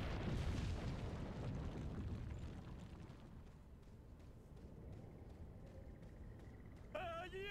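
A grenade explosion in Resident Evil Village, a deep booming blast at the start that rumbles and fades into low-level game ambience, followed by a faint electronic chime near the end.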